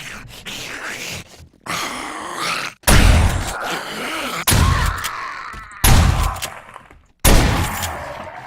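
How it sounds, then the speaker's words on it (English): Gunfire in the zombie survival game 7 Days to Die on insane difficulty: several sharp, loud shots at irregular intervals, each followed by a short ringing tail, with groaning and movement sounds between them. "Oh, it helps to actually shoot them and hit them."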